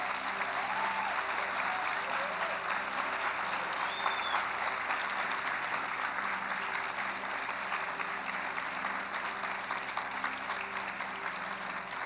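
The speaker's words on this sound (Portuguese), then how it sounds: "eu queria que você desse uma salva de palmas para esses voluntários" A church congregation at a Sunday service applauds volunteers, a steady, sustained clapping from a large crowd filling the room for the whole stretch.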